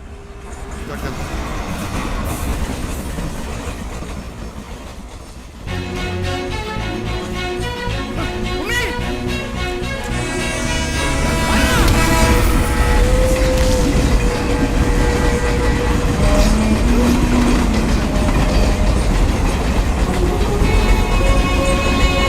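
A train runs continuously throughout, a steady loud rumble with layered music or effects and shifting tones, growing louder past the midpoint, with no clear separate voices.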